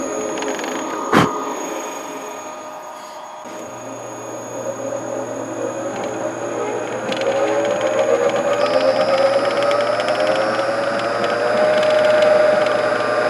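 A shop drill press runs on a newly installed VFD, its steady mechanical whine and hum building in loudness and pitch over several seconds, with a sharp knock near the start and a rising tonal drone throughout.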